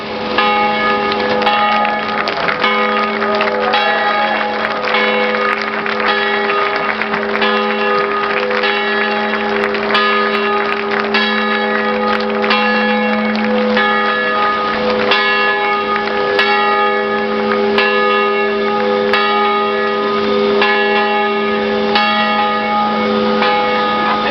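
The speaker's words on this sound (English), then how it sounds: "kicking off our 50th year with a robust ringing of the bell of AMBROSE" The ship's bell of the lightship Ambrose at South Street Seaport Museum clangs repeatedly and vigorously in a fast, steady rhythm, loud and close, its ringing tones overlapping throughout.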